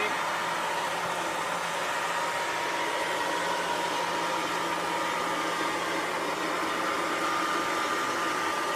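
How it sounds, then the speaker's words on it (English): A Haier robot vacuum cleaner runs with a steady, even whirring hum. It holds at a constant moderate level throughout, with no talking. "So that's the vacuum."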